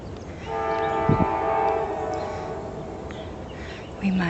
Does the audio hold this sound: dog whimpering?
no